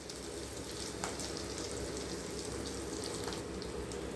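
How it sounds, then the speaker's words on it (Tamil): Garlic and onion sautéing in sesame oil in a pan, a steady dense sizzle and crackle that runs without pause, close and even, with one faint tap partway through and no talking. "பூண்டு வெங்காயம் நல்லா வதங்கிருச்சு"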